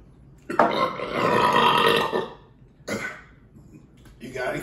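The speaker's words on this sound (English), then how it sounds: "Just a little burp." A person burps after tasting a D.C. Brau The Corruption beer. One long, loud belch is followed by a shorter one and a brief third sound. No clear words are spoken.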